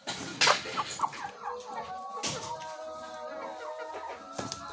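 Chickens clucking in a backyard pen, with a rooster among them, give short irregular calls at close range, mixed with scattered brief noises and some faint background activity.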